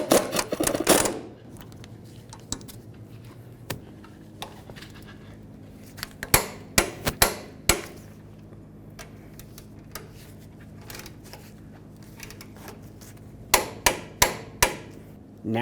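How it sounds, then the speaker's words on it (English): Brake bracket bolts on a 1999–2007 Ford F-250 are run down with a ratchet amid scattered sharp metallic clicks and knocks in clusters, close and fairly loud over a low steady hum. "Now we'll just bottom out these bolts and then we'll torque them to 150 foot-pounds."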